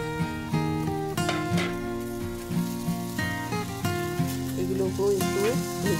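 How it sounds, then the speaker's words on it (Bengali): Carrots and green peas fry in a pan for broken-wheat dalia upma, a soft continuous sizzle with light stirring beneath steady, prominent background music. "এগুলোকেও একটু ভেজে নেব ভালো করে।"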